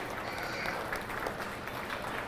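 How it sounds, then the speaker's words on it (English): Steady applause rises from the audience at a livestock show for the kids who showed sheep, swine and goats, heard at a moderate distance as even, continuous clapping. "let's give each and every one of these kids a big round of applause"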